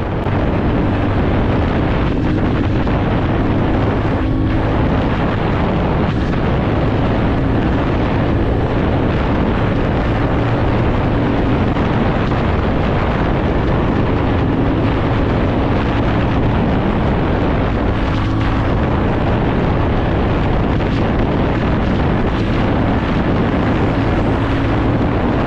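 A 2025 TVS Ronin motorcycle's engine and exhaust roar loud and constant while riding, with heavy wind rush layered over the steady drone and no talk.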